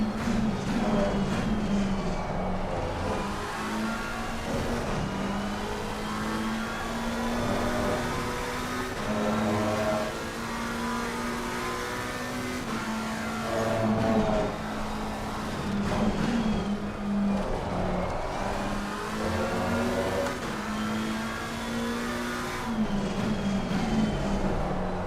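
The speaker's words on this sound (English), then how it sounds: "the Lexus sounds amazing" Lexus race car engine in a racing video game drones steadily at close range, pitch rising and falling in repeated sweeps as gears change, loud and continuous with no talk over it.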